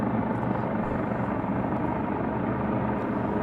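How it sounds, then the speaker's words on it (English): Helicopter rotor blades thudding in a steady, loud, continuous drone with no pauses or voices. "Because that's the noise an alien makes. Helicopter rotators or helicopter blades."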